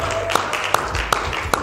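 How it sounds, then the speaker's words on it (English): Four slow, evenly spaced claps ring out at a morning brand show, each a sharp single strike rather than a full round of applause, set against a steady background murmur. "Give yourself a round of applause."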